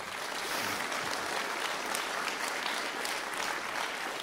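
Steady, dense applause from a concert audience honoring a choir at a brass band's 100th anniversary jubilee concert, continuous and even throughout without pause.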